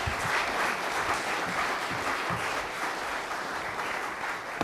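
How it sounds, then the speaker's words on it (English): Sustained, even applause from an audience for a panel at a business class event, a dense continuous wash of many hands clapping at a moderate distance. "a round of applause for our panel"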